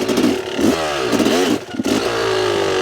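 A motorcycle engine starts and revs on a slight incline, loud and close, with the pitch sweeping up and down through several throttle blips before it settles into a steady idle.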